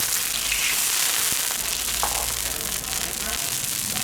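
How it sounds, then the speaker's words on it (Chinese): Cured Hunan pork (larou) being stir-fried in a wok, with a loud continuous sizzle and crackle and occasional scraping of the turner, close up and steady throughout. "这个腊肉我们稍微炒制一下就行了"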